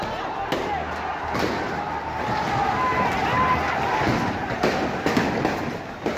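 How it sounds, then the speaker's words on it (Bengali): Gunshots ring out during a street protest on a highway, a series of sharp cracks and bangs scattered over constant crowd noise and shouting voices throughout. "সঙ্গে সঙ্গেই গুলির শব্দ।"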